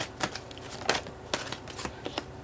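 A deck of tarot cards being shuffled by hand, with a series of crisp riffling bursts and soft slaps in an irregular rhythm, close and clear with no talking.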